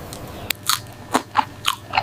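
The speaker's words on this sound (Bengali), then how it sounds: "তিল খুব ভালো করে চিবায় চিবায় একদম পেস্ট করে গিলবেন" Lightly roasted sesame seeds are chewed and bitten in a series of crisp, close crunches that come at an uneven rhythm over about two seconds, with no talking.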